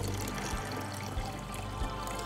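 Soda being poured from a bottle for a pH acidity test, a steady, fairly quiet liquid splash and trickle running continuously with a low background rumble, no talking.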